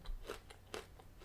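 Faint crunching as Crunchy Caramel M&Ms are bitten and chewed, a few crisp cracks close to the mouth, quiet and brief with no talking.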